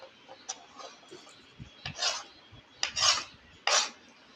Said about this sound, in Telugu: కట్ చేసిన ఆనియన్ని ఫస్ట్గా వేయాలి. ఇలా వేసిన తర్వాత నెక్స్ట్ టమాటోస్ వేయాలి.